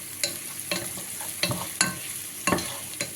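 Garlic sautéing in a pan, a steady soft sizzle broken by several sharp scraping stirs at irregular intervals, close by with no voices.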